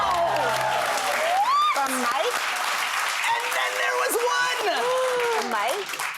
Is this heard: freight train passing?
no